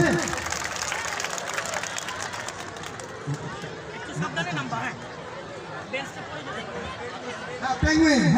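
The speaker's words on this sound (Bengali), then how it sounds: "সবার জন্য একটু করতালি হবে" An audience applauds prize winners at a school physics fair, a broad wash of clapping mixed with crowd chatter and voices, the applause fading into hubbub and talk partway through.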